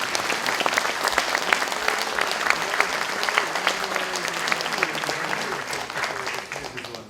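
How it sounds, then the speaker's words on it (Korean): Audience applause at a university president's inauguration ceremony, a dense, steady wash of many hands clapping that holds for several seconds before tapering off at the end. "여러분 큰 박수로 맞이해주시면 감사하겠습니다"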